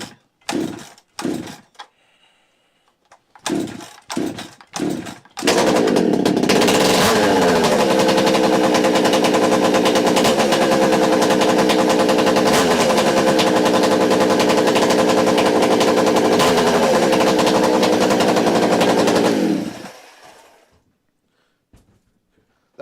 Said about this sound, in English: It's my first 371. This has been a saw that I've wanted forever.